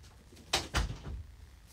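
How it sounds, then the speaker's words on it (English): A door is pushed shut indoors, a sharp click followed by a heavier thud at close range, with no talk over it. "hold on, I'm going to have to shut the door."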